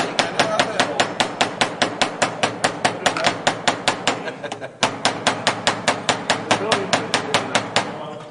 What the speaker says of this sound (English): That's why they make ball peen hammers.